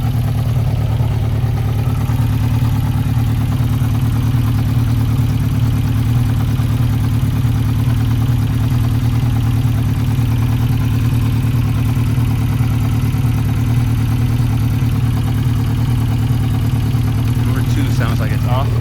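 Steady, loud, close idle of a Yamaha XJ600 Seca II motorcycle engine in neutral, with a rough, uneven pulsing low drone from a suspected problem cylinder that holds throughout. People talk over it.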